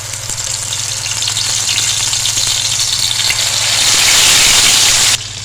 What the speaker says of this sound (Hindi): अब हम इसमें डालेंगे एक एक पीस करके फ़िश डालेंगे।